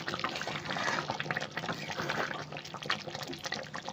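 Yogurt chicken curry (doi chicken) simmers in a pot, giving a steady, continuous bubbling and sizzling wash at moderate level for the whole stretch, without talk.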